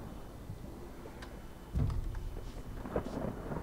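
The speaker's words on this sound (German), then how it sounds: "Ich habe hier Gewitter." Thunderstorm ambience in the video game Human: Fall Flat, steady rain hiss with a low rumbling thunder roll swelling midway and continuing to the end, no talk.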